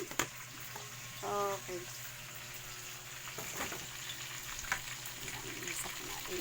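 Garlic, ginger paste and tomato sautéing in a pan, a soft steady sizzle running low throughout with a few clinks, and a brief spoken word partway through.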